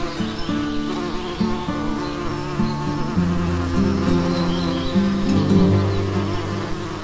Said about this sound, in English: This is Bee.